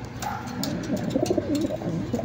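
A champion racing pigeon coos at its nest inside a loft, a few close, rolling coos in short bursts against a quiet indoor background.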